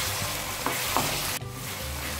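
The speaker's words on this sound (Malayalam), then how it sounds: "ഇനി തക്കാളി ഒന്ന് നല്ലപോലെ വെന്തുടയണം." Tomatoes fry in a pan for a Kuttanadan beef roast, a dense continuous sizzle with a couple of soft stirring scrapes and a brief dip as the pan is moved.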